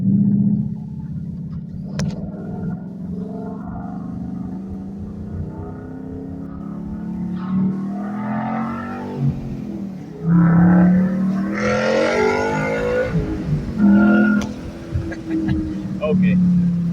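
A 2013 Ford Mustang Boss 302 pulling away for a short drive, its engine rumbling steadily from inside the cabin and then revving louder and higher partway through, with a person speaking over it.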